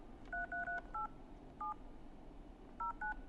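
Touch-tone telephone keypad dialing a number: short paired beeps in a quick cluster, then a single tone, then two more, clear and fairly close with no talk.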